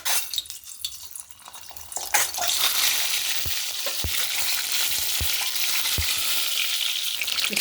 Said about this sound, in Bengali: প্রথমে যে ডিমগুলোকে একটু ভেজে নিচ্ছি।